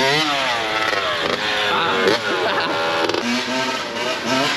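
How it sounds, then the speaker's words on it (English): A loud two-stroke dirt bike engine revs and drones nearby on a group ride out alongside pedal bikes, pitch rising and falling with throttle blips throughout. "That two-stroke's so loud."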